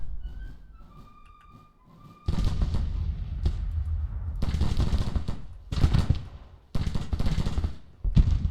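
Rolling musket volleys and artillery fire from a Grand Tactician: The Civil War battle, loud bursts of massed gunfire arriving in several waves with brief lulls, no talking.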